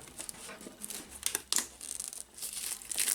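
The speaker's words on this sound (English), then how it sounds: "let's get this overspray film off and see if it's actually worked where I've cut round" Overspray film being peeled off a freshly painted Tamiya CC01 Camel Trophy Land Rover Defender model body, giving close, continuous crinkling and crackling plastic sounds with short sharp tearing bursts and no talk.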